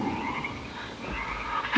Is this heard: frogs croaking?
yes